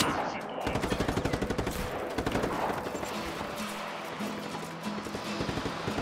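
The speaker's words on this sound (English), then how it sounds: "You guys are shooting at me." Enemies in Just Cause fire steady rapid bursts of gunfire throughout, a continuous rattling volley of shots at moderate distance with some talk underneath.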